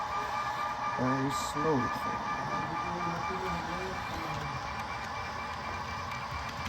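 An F3 model passenger train runs slowly on a model railway layout, giving a faint, steady mechanical rumble and hum beneath people talking close by.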